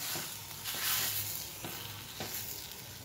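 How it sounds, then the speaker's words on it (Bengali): Hot ghee tempering poured into boiled khichuri, giving a soft, steady sizzle with faint crackles, quiet and brief, with no speech. "এই দেখো ফোড়নটা আমার হয়ে গেছে, এবার আমি এইখানে ঢেলে দিলাম"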